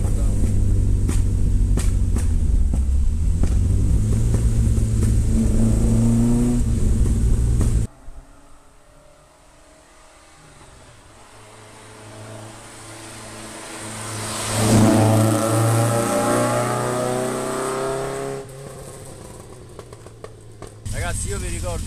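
A Lancia Fulvia 1.6 HF race car engine revs loud and close, with a rising, droning tone. It drops away briefly, then surges again, and a person talks excitedly over it.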